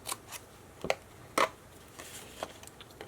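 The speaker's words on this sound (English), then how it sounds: "I'm going to trim off the edges of that little rectangle" Scissors trim the edges of a small paper rectangle in a few quick, crisp snips, spaced irregularly, close and fairly quiet against a hushed room.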